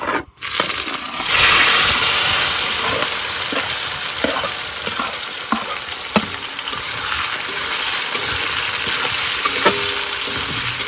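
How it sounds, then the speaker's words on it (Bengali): Chopped ginger, onion, garlic, tomato and green chili frying in hot oil with whole cumin, a steady loud sizzle that flares as the spices go in, with repeated stirring scrapes and taps throughout. "এবার মশলাগুলো ভালো করে ভেজে নেব"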